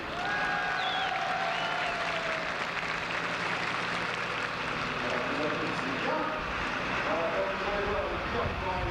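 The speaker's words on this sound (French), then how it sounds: "Et vous pouvez l'applaudir, merci." Spectators at an outdoor tractor pulling competition applaud from a distance, a faint steady patter blended with crowd murmur and a low engine drone, while people talk over it.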